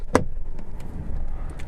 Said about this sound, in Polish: Dźwięk otwierania drzwi.